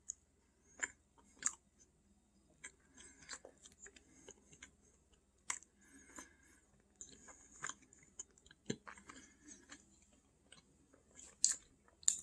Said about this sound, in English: the crackers aren't as crunchy as they were